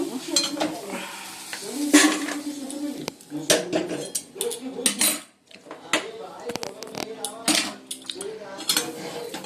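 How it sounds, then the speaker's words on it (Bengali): Potatoes fry in hot oil in a pan, a soft sizzle running beneath loud, frequent clanks and scrapes of a spatula against the cookware. "আলুটা এবার ভেজে নিচ্ছি"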